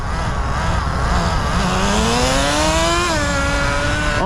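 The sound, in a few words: Smartech Magic Wheel RC truck motor shifting two-speed transmission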